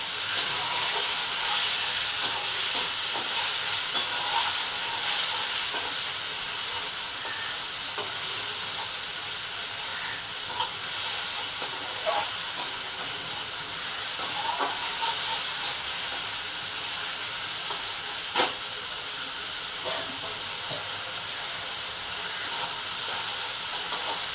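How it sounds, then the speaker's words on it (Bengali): Spices frying in oil hiss and sizzle steadily after a little water is added, with faint stirring scrapes and an occasional sharp click over the continuous steamy wash. "যাতে না যায় মশলাগুলো একটু সামান্য সামান্য একটু জল দিলাম"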